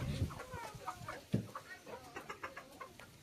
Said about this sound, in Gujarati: કેટલું બધું કુકડા છે આમાં